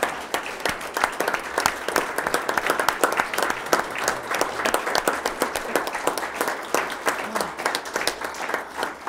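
A standing ovation from a school board meeting audience, dense sustained clapping from many hands filling the room at steady loudness throughout, with no talk over it.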